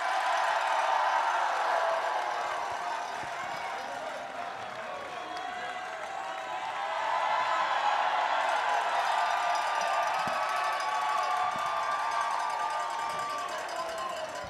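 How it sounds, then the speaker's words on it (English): A large outdoor crowd at the Washington Capitals Stanley Cup championship rally applauds and cheers for a player introduction, a distant, sustained roar of clapping and voices that swells midway and carries on steadily. "I'm getting the sense these guys like the applause."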